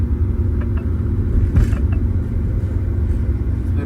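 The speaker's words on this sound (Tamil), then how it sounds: "செகண்ட் கியர்லேயே மூவ் பண்ண போகிறேன். 3000 RPM 4000 RPM." A car engine in second gear pulls uphill at 3000 to 4000 RPM, giving a close, steady low rumble with small mechanical creaks and ticks over it.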